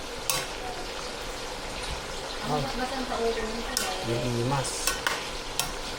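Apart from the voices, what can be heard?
stirring eggplant and kapengyo frying in a pan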